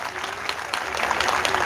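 An audience at an Ambedkar thought conference in Sarnath, Varanasi, greets a speaker with steady, enthusiastic applause, close and continuous throughout, with a few sharper claps standing out.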